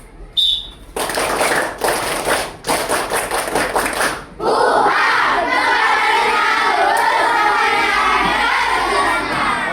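A group of students beats out the 'tepuk semangat silat' spirit clap in a school silat lesson: several sharp rhythmic clap bursts and thumps, then a sustained loud wash of crowd clapping and shouting.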